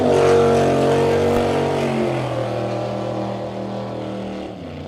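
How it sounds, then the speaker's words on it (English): Fuel roadster race car at El Mirage dry lake pulls away off a push truck, its engine roaring loud and close with strong harmonic tones that hold steady, then slowly fade as it accelerates downcourse. "Oh, did that sound good off the push truck."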